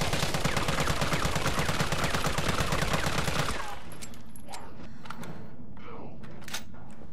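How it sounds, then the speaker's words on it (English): Rapid automatic fire from a scoped assault rifle in Resident Evil 3 Remake, a dense loud burst of shots for about three and a half seconds that cuts off abruptly, leaving faint mechanical clicks and shuffling afterward. "Now let's test the assault rifle with the scope attached."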